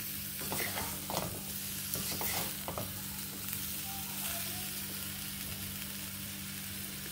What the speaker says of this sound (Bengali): এবার আস্তে আস্তে নাড়বো, গুড়টা গলে যাবে।